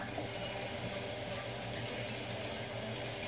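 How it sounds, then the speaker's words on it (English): A kitchen tap runs steadily for hand washing, giving an even, close hiss of flowing water with no talking over it. "wash your hands"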